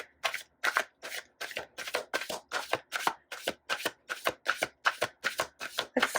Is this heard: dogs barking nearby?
no